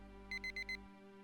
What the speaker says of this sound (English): The alarm jerked me out of the trance